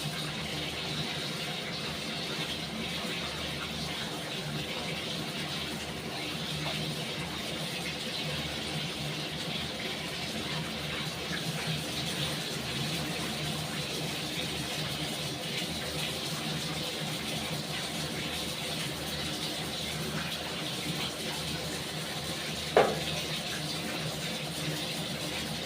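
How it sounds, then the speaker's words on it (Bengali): Tap water runs steadily into a sink while fish and meat are rinsed for cooking in a home kitchen, a constant close splashing hiss with one brief clink near the end. "তাও আমি মাছগুলোকে আরেকটু ধুয়ে নিই"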